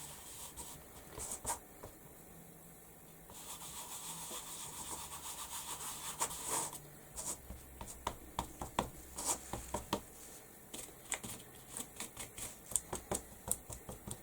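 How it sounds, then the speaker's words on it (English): A brush stipples paint onto a mixed media piece, a soft close dabbing and rubbing that becomes a quick irregular series of light taps in its second half. "I'm just going to stipple it on as a second layer"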